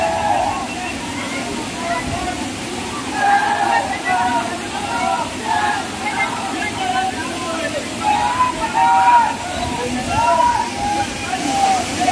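Kempty waterfall on the Chardham Yatra route, rushing water pouring steadily and loudly, with a crowd of people talking and calling out underneath the roar.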